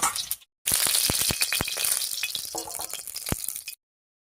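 Eggs fry in hot oil in a pan, a bright steady sizzle broken by sharp clinks and scrapes of a utensil, ending abruptly.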